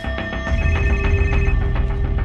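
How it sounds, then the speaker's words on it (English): A telephone bell rings in repeated bursts for the whole stretch, loud and close, with a low rumble underneath and no talk. "But it isn't long before the phone starts ringing with tips."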